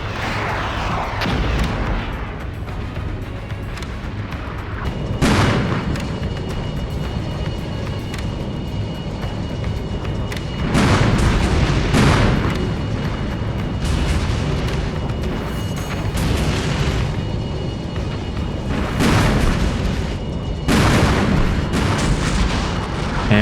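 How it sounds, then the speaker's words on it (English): Missiles strike a tank platoon in the Armored Brigade 2 wargame, producing a series of heavy booming explosions at irregular intervals over a constant rumbling battlefield backdrop. "Lots of missiles going directly to that tank platoon."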